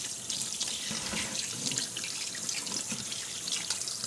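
Kitchen tap water running steadily into a sink while raw chicken wings are washed, a continuous close splashing hiss with no talking.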